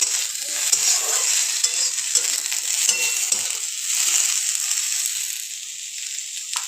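Chopped tomatoes sizzle in a hot pan while being stirred, a close, continuous frying hiss with occasional light scraping of the utensil against the pan.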